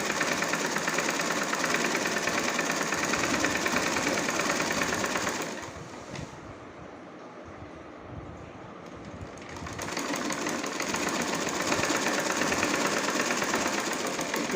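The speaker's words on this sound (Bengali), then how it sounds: "এখন বাহির দিয়ে একটা চাপ সেলাই দিয়ে দিচ্ছি।" A sewing machine top-stitches along the outside of a kameez, running as a close, steady mechanical whir for several seconds, dropping to a quieter lull, then running steadily again.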